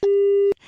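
A phone line cuts off during a radio prank call, sounding one loud, steady, half-second electronic beep that stops abruptly, followed by faint hiss.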